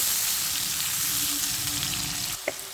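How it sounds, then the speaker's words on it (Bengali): Potatoes coated with salt and turmeric fry in hot oil with a loud, steady sizzle that runs throughout, then a brief clatter near the end. "আলুটা আমি একটু লবণ হলুদ মাখিয়ে নিয়েছি এখন আমি এটা সুন্দর করে ভেজে নেব"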